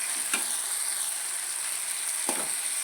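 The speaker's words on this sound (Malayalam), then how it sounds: "നമ്മളിതാ ഉള്ളിയും തക്കാളി നന്നായിട്ട് വഴറ്റി വരുന്നുണ്ട് കേട്ടോ" Onions and tomatoes sautéing in a hot pan for tomato chutney, giving a steady, close sizzle throughout, broken by two brief scraping stirs.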